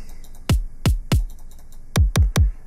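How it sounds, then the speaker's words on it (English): Dubstep kick drum sample struck six times, three evenly spaced punchy booms followed by a quicker group of three, each a sharp click dropping into a deep thud, loud and dry with no voices. "First up, we have the kick."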